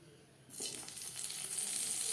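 Eggplant slices for begun bhaja hit hot oil after a short silence and break into a steady, close sizzle that builds slightly and continues to the end, fairly soft overall with no talking.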